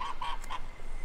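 A male goose at a picnic gives three quick, harsh honks in a rapid rhythm, close and fairly loud, with no talking over them.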